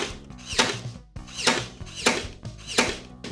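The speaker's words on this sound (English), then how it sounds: "only use a power stapler if you are with a grown-up" Power stapler firing four times at a steady rhythm, each shot a sharp close mechanical snap with a brief whir, heard alone.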